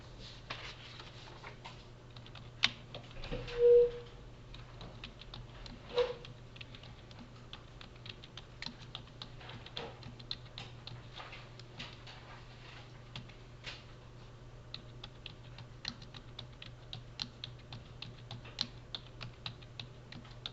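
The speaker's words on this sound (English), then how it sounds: "So I'm going to go ahead and type all that in" Someone types on a computer keyboard, producing faint, sporadic keystroke clicks over a low steady hum in a quiet room.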